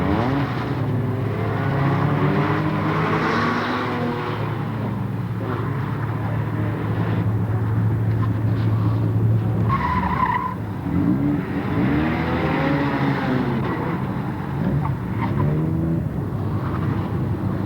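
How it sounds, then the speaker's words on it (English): Tires skid and squeal as a red Mazda RX-7 makes an autocross run, with a loud, continuous engine roar that rises and falls through the turns for the whole stretch. "a beautiful red Mazda RX-7"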